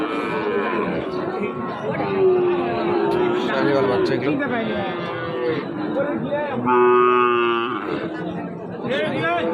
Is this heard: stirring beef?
no